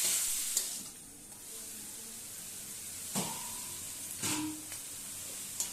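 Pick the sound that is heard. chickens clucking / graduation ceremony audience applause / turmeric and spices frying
turmeric and spices frying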